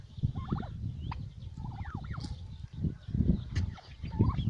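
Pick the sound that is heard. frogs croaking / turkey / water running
turkey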